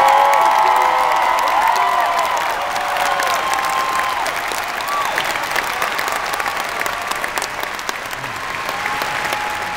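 A huge outdoor political rally crowd in Seattle cheers and applauds continuously, dense clapping and whoops filling the air at steady loudness throughout.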